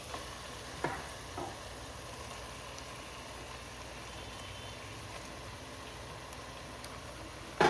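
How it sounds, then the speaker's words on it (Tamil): Chicken frying in a pan with onion, tomato, ginger and garlic gives a faint, steady sizzle, with a couple of soft knocks early on and a louder clatter at the very end. "சிக்கன் போட்டு நல்லா தட்டிக்கலாம்."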